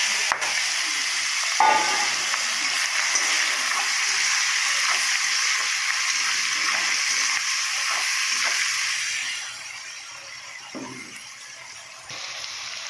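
Bay leaf, cumin, dried chili and onion fry in hot oil with a continuous crackling sizzle and occasional stirring scrapes, the sizzle easing somewhat toward the end.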